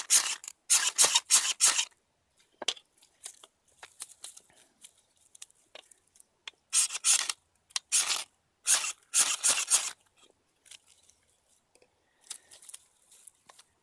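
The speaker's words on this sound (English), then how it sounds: "we're going to have to try to strike this with my back of my saw" Ferro rod struck repeatedly with the spine of a saw blade over a bundle of wood shavings and twig curls at a bushcraft camp, giving bursts of sharp scraping rasps in quick clusters separated by pauses, close and fairly loud.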